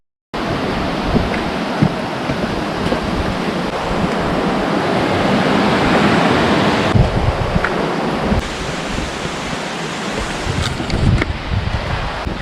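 A river in the Harz Mountains near Thale rushes past, a continuous loud broadband roar of flowing water heard up close, starting abruptly and staying steady with slight shifts in intensity and no talking.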